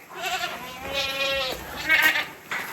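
Goats on a farm bleating in wavering, nasal calls, two or three cries close by over a little background noise.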